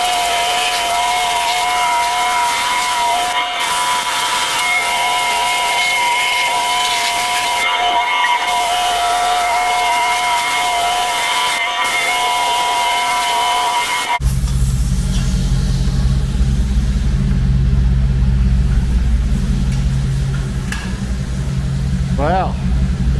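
An automatic car wash runs around a car on a 25-degree day, first a loud high-pitched whine and hiss of spraying water, then a deep steady roar of blowers or brushes.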